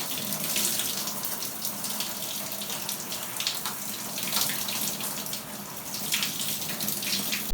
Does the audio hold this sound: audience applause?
no